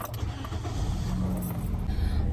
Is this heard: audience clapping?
no